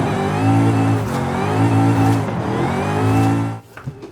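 A car engine in the racing video game Forza Horizon 5 revs hard in loud sustained surges with pitch climbing and dropping between gear changes, cutting off sharply just before the end.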